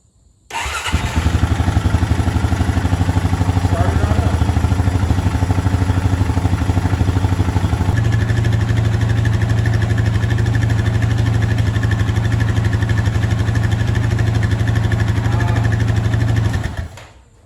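A Honda 420 four-wheeler engine fresh from a top-end rebuild cranks and fires, then settles into a loud, steady, close idle with an even rapid chug and mechanical clatter for about fifteen seconds before cutting off abruptly.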